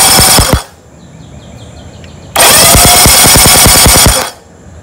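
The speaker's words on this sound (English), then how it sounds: "So let's hit the electric start on it and see how the spark looks." A 1973 Johnson 25 HP outboard turns over on its electric starter, a loud rapid rhythmic cranking chatter in two bursts, a short one and then a longer run of about two seconds.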